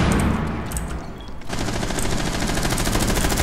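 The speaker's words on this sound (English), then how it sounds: "Help, he's shooting me." Rapid automatic gunfire in a Rainbow Six Siege match, a dense burst of shots that breaks briefly and then resumes as a sustained rattling volley, loud and close.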